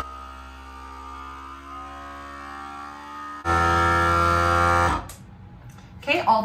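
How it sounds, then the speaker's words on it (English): A FoodSaver vacuum sealer pumps the air out of a glass mason jar. Its motor gives a steady buzzing hum that jumps much louder for about a second and a half, then cuts off, followed by brief handling clatter. "This is my food saver vacuum sealer for my mason jars."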